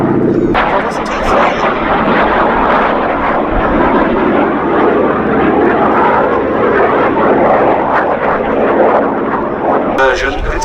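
A Jet Provost T3 jet trainer roars past at an air festival at Duxford, a loud continuous rushing engine noise that swells and holds throughout, with a commentator's voice talking over it.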